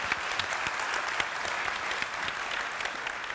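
An audience at a keynote session applauds Admiral Olivier Lajoux, an even, sustained wash of many hands clapping at moderate distance, steady from start to finish.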